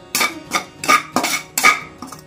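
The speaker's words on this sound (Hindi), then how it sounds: "अब इसको थोड़ा सा चलाएंगे ताकि ये थोड़ा सा ठंडा हो जाए।" A metal spoon scrapes and clinks against a hot kadhai while stirring a golden chickpea-flour sweet, about six rhythmic, sharp metallic strokes close by.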